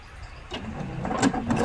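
A sewing machine runs in short mechanical bursts while an Orla dress is sewn, a close, low rattling hum that builds and surges.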